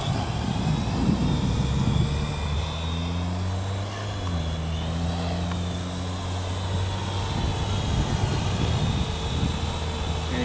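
A Parrot AR.Drone quadcopter hovers on its own in light wind, its rotors giving a steady buzzing whine with shifting pitch bands, fairly close and continuous throughout, with no talk.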